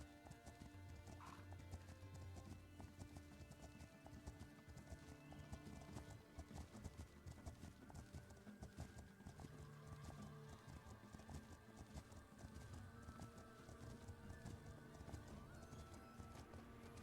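Horse hooves clip-clop in the Legend of Khiimori video game, a quiet, steady walking rhythm running throughout. A brief whinny sounds near the start, and soft game sounds stay in the background.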